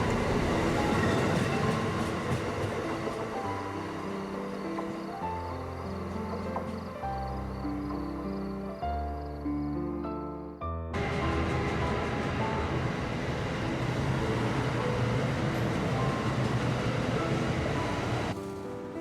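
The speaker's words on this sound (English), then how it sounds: "we will be travelling south in our regional train over a couple of railroad bridges" A southbound regional train rolls along with a loud rumbling drone, shifting pitch as it crosses railroad bridges near Westerly and Pawcatuck, then a sudden brighter, rattling roar of wheels on track.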